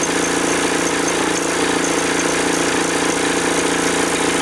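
A VW T25 with a swapped-in TDI engine idles after an injector overhaul, a loud, steady, even diesel rumble with a constant hum throughout.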